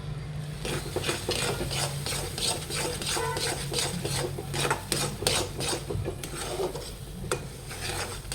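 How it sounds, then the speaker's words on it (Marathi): A spoon works milk-powder kalakand mixture with ghee in a pan, giving close, steady rhythmic scraping and rubbing strokes that run throughout. "आता आपल्याला एक चमचा पुन्हा साजूक तूप टाकून घ्यायचं आहे आणि आता पुन्हा एक छान मिक्स करून घ्यायचं आहे"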